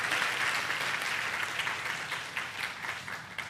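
A church youth-service congregation applauds together, a steady wash of many hands clapping at moderate distance that slowly thins out toward the end.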